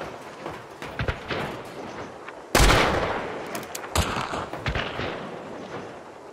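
Gunfire in the online shooter Hunt: Showdown, with scattered distant shots and one loud close blast that echoes and tails off, followed by a few more cracks.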